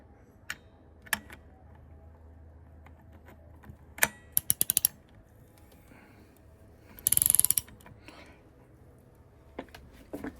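Torque wrench ratcheting on a Honda VFR400R NC21 engine during a rebuild, heard as a few short bursts of quick metallic clicks spread through a quiet workshop, with a longer run of clicking in the middle.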